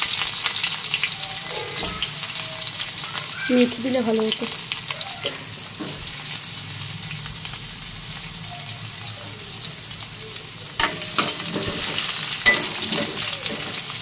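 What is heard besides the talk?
frying bitter gourd with bay leaf, cumin, fennel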